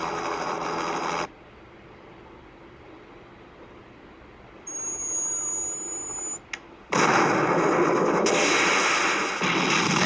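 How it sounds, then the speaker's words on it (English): Loud, roaring explosion blasts from a miniature helicopter being blown up in the film The Spy Who Loved Me, separated by a quieter stretch with a thin high-pitched whine. "That was a miniature helicopter that they blew up."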